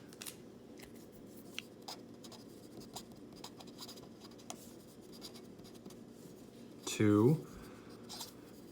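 A pen draws a graph on paper with faint, light scratching strokes in short intermittent bursts, heard close and quiet beneath a person speaking.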